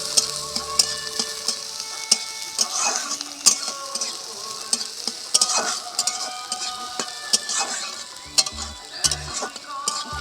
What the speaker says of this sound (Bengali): পেঁয়াজ কুচিটা আমি এখানে ভেজে নেব।